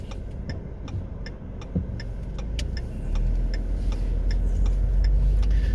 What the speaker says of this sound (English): Let a car go by.